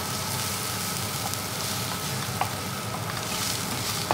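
Garlic and onions frying in a pan for lemon rice, a dense, loud, continuous sizzle close by with a low background hum and occasional faint utensil taps.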